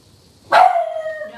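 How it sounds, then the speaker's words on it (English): A single loud, close dog bark that trails off into a drawn-out whine. "What are you barking at?"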